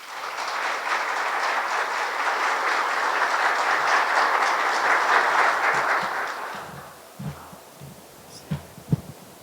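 A lecture audience gives dense, sustained applause for a historian speaker, loud and steady for about six seconds before thinning into a few scattered claps and room noise.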